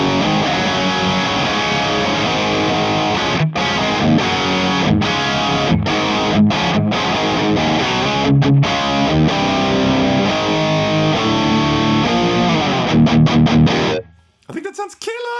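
A heavily distorted electric guitar through an amp simulator plays dense, crunchy riffs with brief stops between chords, dry with no reverb and loud, ending in a quick flurry of higher noise.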